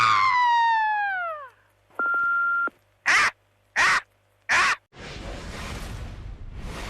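Human voices imitate a bald eagle's cry: first a long falling, whistly screech, then a flat held tone, three short harsh squawks in a row, and a final breathy rasp, each loud and close with no ordinary talk.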